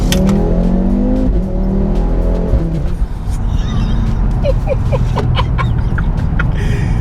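A powerful 520 bhp Audi 8P RS3 engine roars close up in second gear on a slightly wet road, revving hard and rising in pitch as it accelerates, with a few sharp crackles near the end.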